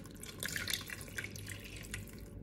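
Water splashes and trickles steadily into a cooking pot while artichokes are prepared, a soft, close, continuous pour with small drips and no talking.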